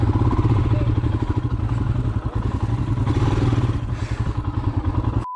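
A Royal Enfield Himalayan motorcycle racing on a supercross dirt track runs with a steady mid-pitched engine drone, broken by clattering, thuds and scrapes, suggesting the bike going down. The engine stays loud and close throughout.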